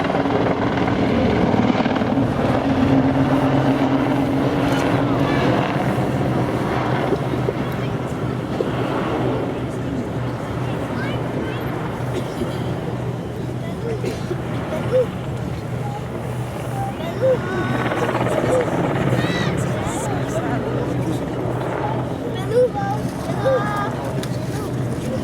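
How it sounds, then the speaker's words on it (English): An Apache attack helicopter's rotor and engine drone throughout at an air show, steady and fairly loud, with a voice talking over it. "the Apache is not just a powerful attack helicopter, it's an agile one too"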